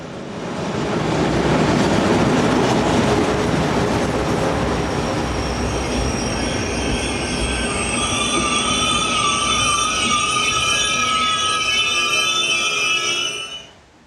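DB Class 110 electric locomotive hauling a train past at Emmerich, a loud, steady rumble of wheels on rail with high metallic wheel squeal building through the pass, then cutting off as it clears.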